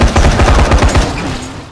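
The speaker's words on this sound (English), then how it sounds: "And some help from our shotgun." Rapid blasts of gunfire from a shotgun in the zombie game Dying Light The Following, a dense run of loud, close shots packed together for about a second before trailing off into a fading echo.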